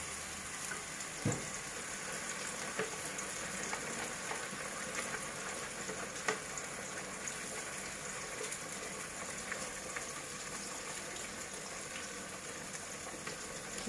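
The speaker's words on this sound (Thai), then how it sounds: "เราก็จะใส่ พริกที่เราปั่นนะคะ ลงไปในหม้อเลย ลงไปในกระทะเลยนะคะ" Blended chili paste sizzles and fries with shallots in a pan, a steady crackling hiss that holds throughout with occasional small pops, fairly quiet and with no talking.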